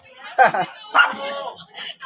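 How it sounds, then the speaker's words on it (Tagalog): A dog barks a couple of times nearby, sharp and agitated, amid street noise and people talking in a narrow alley in Tondo, Manila. "galit ang aso"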